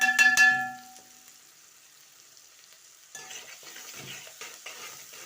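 Onions sauté with salt in a pot and are stirred: a short clatter of a utensil against the pot opens, then a soft, steady sizzle continues quietly with light scraping.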